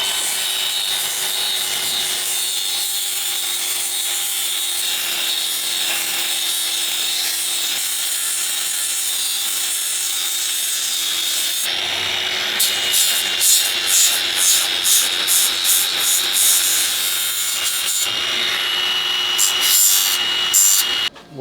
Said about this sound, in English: We'll just get the flapper disc in there, clean that up a bit